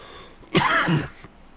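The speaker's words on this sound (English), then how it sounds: "I'm struggling a bit from my chest cold, so there may be temporary coughs" A single harsh cough or throat-clearing burst, close and fairly loud, lasting about half a second against a quiet room.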